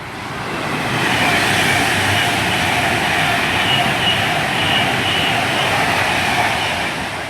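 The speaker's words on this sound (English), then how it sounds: "passing through now is a Virgin Trains Pendolino heading to London Euston" A Virgin Trains Pendolino electric train rushes through Milton Keynes Central station at speed, a loud steady roar that swells and then eases slightly as it goes by.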